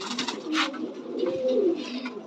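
Pigeons in a home pigeon loft coo in low, throaty rolling calls, fairly close and clear, with soft rustling between the coos.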